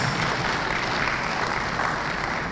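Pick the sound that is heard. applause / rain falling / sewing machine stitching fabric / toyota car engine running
applause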